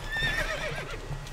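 A horse in the video game The Witcher 3: Wild Hunt lets out a loud, close whinny with a wavering pitch while hooves clop beneath it, all within a brief moment and without talk.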